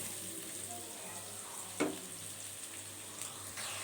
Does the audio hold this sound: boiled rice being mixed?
yes